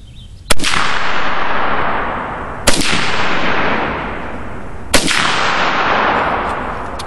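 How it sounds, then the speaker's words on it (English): Three loud, sharp rifle shots from a Soviet SKS firing Soviet-era 7.62x39 ammunition, evenly spaced about two seconds apart, each followed by a long echoing outdoor decay. "Three shots."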